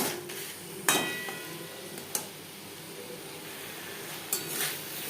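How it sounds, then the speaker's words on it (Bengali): Diced boiled potatoes stirred with spices in a pan for chana kofta curry: a few sharp scraping knocks of a spatula against the pan over a low, faint background sizzle, with no voices. "মশলার সাথে আলু আরও তিন চার মিনিট নাড়াচাড়া করে নেওয়ার পর"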